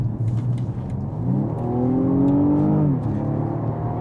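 A BMW M135i hatchback accelerating, its engine note climbing steadily in pitch as the revs rise, loud and close, then dropping away near the end, with no voices heard.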